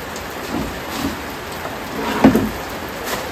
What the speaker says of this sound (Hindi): तभी एकदम मस्त वाला बारिश आ गया